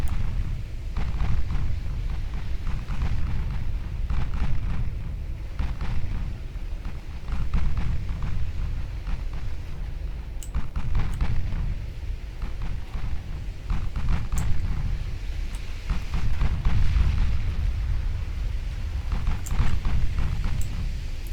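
Battleship shell hits and explosions in the Ultimate Admiral Dreadnoughts naval video game: a continuous heavy low rumble of distant blasts swells and fades, with faint sharp cracks popping through now and then.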